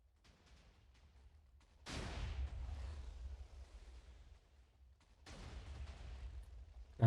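A Minecraft TNT cannon fires in the game: two booming blasts, each a sudden loud onset decaying into a long rumbling wash, with a low hum between shots and no talking.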